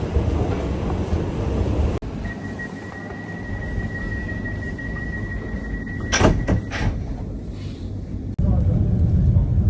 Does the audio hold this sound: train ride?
yes